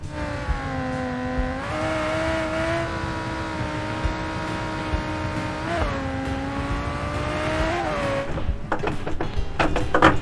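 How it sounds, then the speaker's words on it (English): A Civetta Scintilla V10 engine in BeamNG.drive sustains a loud, harmonically rich howl, its revs climbing and dipping between gear changes, with tire noise near the end. "you could probably also hear the sound of the engine, because the V10 sounds amazing"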